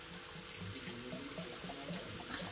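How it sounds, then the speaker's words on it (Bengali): Water poured from a bowl into a pan of vegetables while cooking a Bengali dish, a soft, faint splashing trickle with no talk. "এই যে জল দিয়ে দিচ্ছি সবজিগুলো সেদ্ধ হওয়ার জন্য"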